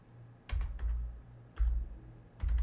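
Three short bursts of typing on a computer keyboard, entering the python command in a terminal; clustered key clacks with low thumps, close and moderately quiet, no voices.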